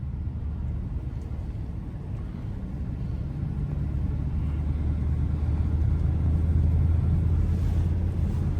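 A Range Rover SVR pushes through thick snow with a steady, deep engine and tyre rumble that swells slightly louder toward the end, with no one talking.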